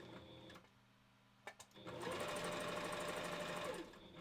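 A sewing machine stitches pieces of wolf costume fur, a couple of brief clicks giving way to a loud, rapid, steady run of needle strokes that holds for about two seconds before stopping.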